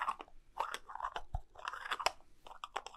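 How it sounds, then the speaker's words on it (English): Small cardboard box handled close up, with crisp crinkly taps and scratches in quick irregular bursts and a soft low thump midway. "This is a little box that Knobb has."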